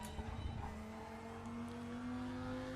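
RaceRoom GTX race car with an Audi-built 2.5-liter turbocharged inline five, its engine droning steadily and rising slowly in pitch under load, heard from inside the car, with faint tire noise.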